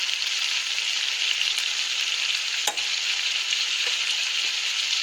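Drumstick and brinjal sauté in hot oil for an onion kuzhambu, giving a steady, loud, close sizzle that runs unbroken throughout, with one faint clink of a spoon partway through.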